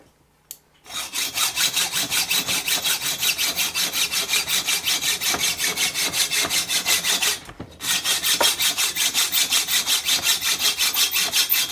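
Steady back-and-forth sawing through an M5x0.9 metal screw with a hacksaw, loud and rhythmic with fast regular strokes, a brief pause near the end before cutting resumes.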